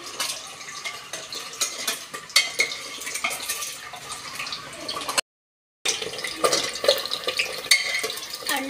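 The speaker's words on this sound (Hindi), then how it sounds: "तेल गरम हो गया है और अम्मी ने अंडे डाल दिए इसमें और गैस जला दी है। अब चला रही हैं इसको।" Eggs frying in hot oil on a gas stove, stirred in a pan with a utensil; steady broadband sizzle with scraping clinks throughout, close and moderately loud, with a short gap of silence partway through.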